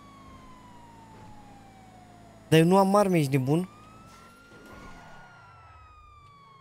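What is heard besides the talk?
police siren in the GTA video game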